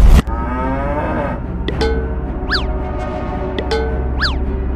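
Cattle moo loudly and close, several long calls with rising and falling pitch, a few sharper cries mixed in over a steady low rumble.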